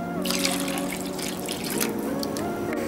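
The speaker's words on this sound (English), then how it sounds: "Add 1 cup of water" Water is poured from a cup into a pan of Kerala-style red fish curry with fish tamarind, a steady splashing, trickling flow that runs continuously at close range over a low background hum.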